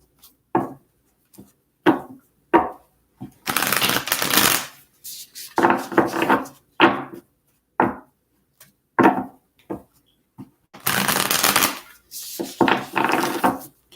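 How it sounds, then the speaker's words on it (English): Tarot cards are shuffled by hand in bursts: crisp riffling runs of a second or so, separated by soft taps and knocks of the deck being squared, close and clear with no talking. "just a few more shuffles here"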